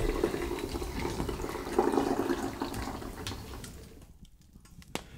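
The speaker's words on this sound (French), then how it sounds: "je filtre." Milk and yogurt mixture pours through a filter in a home kitchen, a steady close trickling and splashing stream that thins and fades toward the end, with a small clink near the finish.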